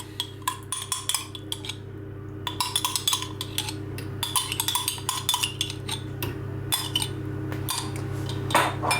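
Vanilla yogurt goes into yogurt cake batter in a bowl, heard as a close series of clinks and scrapes of a utensil against the bowl over a steady low hum, without talk.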